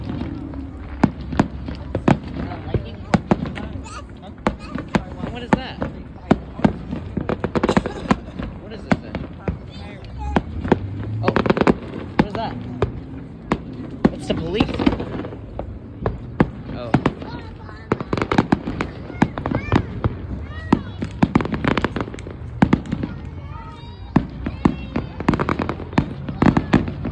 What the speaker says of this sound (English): Oh, that's not lightning. It's just the fireworks.